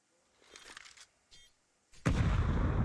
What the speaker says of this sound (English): Tasty AK back there.